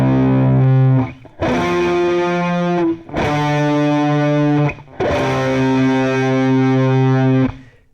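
Distorted electric guitar strumming sustained chords for the intro of a song, four long ringing blocks with short breaks between, loud and alone.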